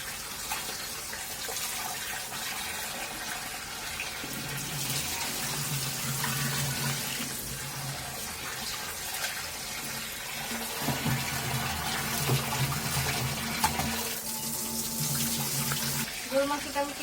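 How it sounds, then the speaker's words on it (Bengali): Pieces of cut beef are washed under a running kitchen tap, with a constant stream of water into the sink. The flow grows heavier and more gushing in stretches, and soft handling noises come through near the end. "এখন আমি গরুর মাংসটাও ধুয়ে নেব সুন্দর করে।"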